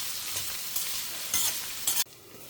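Salted bitter gourd sautéing in a pan gives a close, bright sizzle with brisk bursts of stirring. Near the end the hiss abruptly drops to a much quieter simmer, with no voices present.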